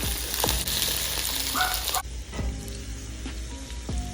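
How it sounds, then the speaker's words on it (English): Fingerling potatoes browning in butter with shallots and garlic give a steady, close sizzle and crackle from the pan, with a few soft clinks of a utensil stirring them. "So the potatoes are browning with the shallots, the garlic, and the butter"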